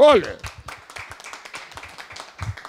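Scattered hand clapping for the owners of a Marbella nightclub, a handful of sparse, uneven claps at close range following a loud spoken voice at the start.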